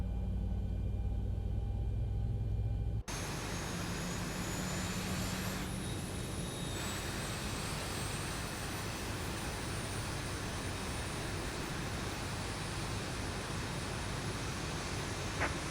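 An aircraft engine in X-Plane 11 idles low and steady after starting abruptly, a broad, continuous droning roar with a constant high whine, loud and close with no talking.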